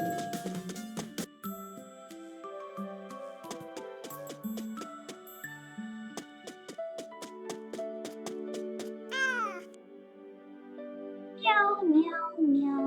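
A cat meows in short bright calls near the end, following a long stretch of plinking melodic chimes and tinkling tones in a cute cartoon-style game setting.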